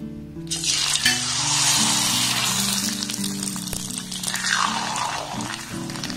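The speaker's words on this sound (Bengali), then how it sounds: "এবার এই পাঁপড়গুলোকে আমি তেলের মধ্যে দিয়ে খুব ভালোভাবে ভেজে নেব।" Homemade potato papads drop into hot oil in a wok and fry with a loud, dense, crackling sizzle that flares up at once and keeps bubbling steadily, easing slightly toward the end.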